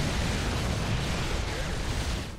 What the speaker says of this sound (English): Those explosions you hear, that's your base being flattened.